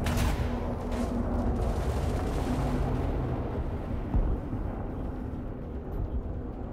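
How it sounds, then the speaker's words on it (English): Torpedoes launch and detonate in a space combat video game, a dense rumbling roar of blasts and booming impacts that holds loud and continuous with no voices over it. "Torpedoes away."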